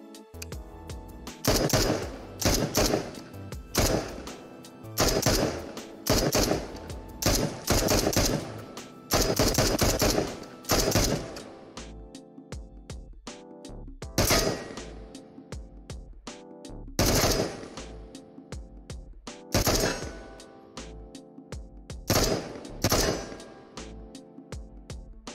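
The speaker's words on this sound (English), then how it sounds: "Up next, we have a brand new assault rifle called the FN FAL." An FN FAL assault rifle chambered in 7.62x51 fires in the video game Into the Radius. Loud, close bursts of full-auto gunfire alternate with short pauses, and there are some single shots toward the end.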